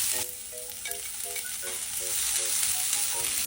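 Garlic, onion and chili sautéing in a pan while potatoes and carrots for menudo cook, a steady close sizzle with soft rhythmic stirring scrapes and no talking.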